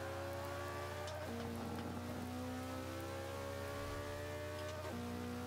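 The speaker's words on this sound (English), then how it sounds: "This is one of those cars where you want to keep it revved up" McLaren P1 engine revving in the Forza 5 racing game, a faint high whine that climbs through the revs, drops at gear shifts and climbs again, steady and distant-sounding with no talk.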